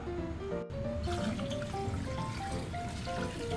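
Water poured into a pot of beef, ginger and black pepper for sinigang, a steady splashing, trickling stream close by after a brief pause.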